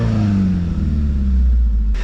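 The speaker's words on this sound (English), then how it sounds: "What about when we rev it up now that it's warmed up a bit?" The warmed-up engine of a Toyota 86 revs close by. One loud rev climbs and then sinks back toward idle in a deep, steady drone lasting about two seconds, with no talking.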